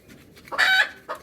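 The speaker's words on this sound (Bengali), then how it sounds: "মুরগিগুলো চেঁচাচ্ছে" Chickens in a backyard coop give a sudden loud burst of squawking and clucking lasting about a quarter second, followed by a shorter squawk, over a quiet background.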